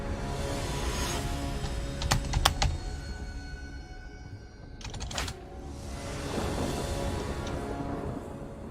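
A computer keyboard clicks in short, quick bursts of keystrokes with pauses between them, fairly faint over a steady background hum.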